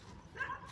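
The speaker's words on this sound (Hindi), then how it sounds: "हर पासे तो कुत्ते भौंक रहे हैं।" A dog gives a brief distant yip or bark at night, faint and short, with no talking.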